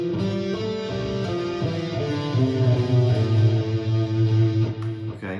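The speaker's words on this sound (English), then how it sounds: "if I added back in the two other notes that truly belong in there in the Aeolian scale, it would sound like this." Electric or acoustic guitar notes run up and down a natural minor Aeolian scale in a steady stepwise pattern, played alone and fairly loud with sustained, overlapping tones and no talking.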